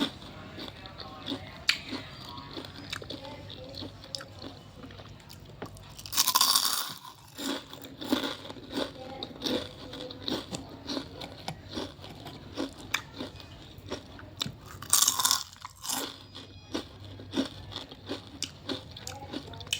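Crispy fried wakame seaweed crunches close up in repeated bites and chews, with a few louder crackling bursts.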